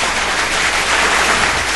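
An audience applauds during a live morning talk show monologue, a dense, steady wash of clapping from many hands that holds evenly throughout.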